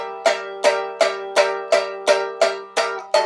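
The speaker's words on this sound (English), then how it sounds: "I'm strumming too many times on that last one just because it feels good" Eight evenly spaced guitar chord strums in a steady rhythm, each ringing briefly before the next, clear and close with no talking.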